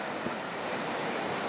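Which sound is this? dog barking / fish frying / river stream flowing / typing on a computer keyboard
river stream flowing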